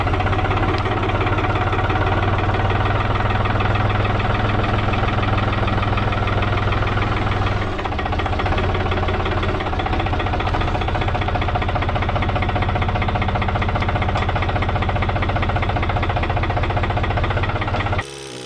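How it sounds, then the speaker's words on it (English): A tractor engine runs up close and loud at a sawmill site, a steady knocking chug with a slight shift in tone partway through that continues throughout. "So start the tractor up here,"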